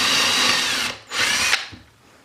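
A power drill drives a screw into a hole in a workshop sign build: two loud, close whirring bursts with a short pause between, the second ending with a sharp catch as the screw seats, then winding down.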